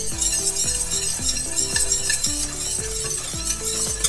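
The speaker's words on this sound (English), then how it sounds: "Keep whisking all the time." A whisk beats steadily through a roux in a pot as milk is gradually added, giving rapid rhythmic metallic scraping and clinking strokes, loud and close, with no voices.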